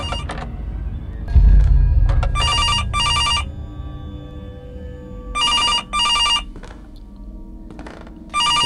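A phone rings in a horror video game set in a police station, several bursts of a bright electronic double ring separated by pauses, over a low rumbling game ambience.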